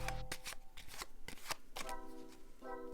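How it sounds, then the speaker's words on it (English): A deck of playing cards is overhand shuffled by hand, giving a rapid series of crisp riffling slaps and flutters, close and moderately soft. "This is done by effectively just shuffling the cards normally."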